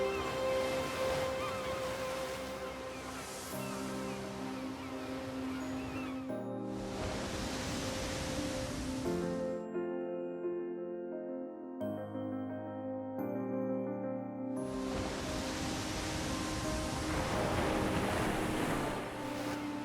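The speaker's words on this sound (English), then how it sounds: "Atlantic waves crash against the volcanic coast." Atlantic surf crashing against the black volcanic coast by the village of El Golfo, heavy broadband waves surging and receding in long swells, partly overlaid with soft sustained music.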